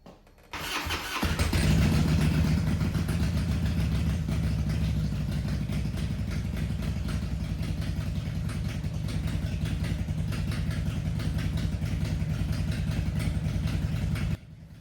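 A Harley-Davidson Twin Cam 88 motorcycle engine, freshly fitted with new cams and cam chain followers, cranks and catches after a second of quiet, then settles into a steady, loud, lumpy idle that continues until it cuts near the end.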